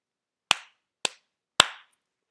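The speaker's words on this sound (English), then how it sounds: "So 3 claps." Three sharp hand claps, evenly spaced about half a second apart, close and crisp against silence.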